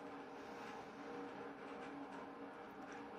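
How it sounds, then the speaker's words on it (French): Road traffic passes far outside a quiet room, a faint, steady wash of engine and tire noise with no distinct single vehicle standing out. "là au loin derrière moi, eh bien j'entends la circulation extérieure"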